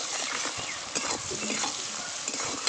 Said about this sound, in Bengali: দিয়ে দেবো কুচানো পেঁয়াজ সামান্য একটু লবণ দিয়ে দেবো পেঁয়াজগুলো তাড়াতাড়ি গলে যাবে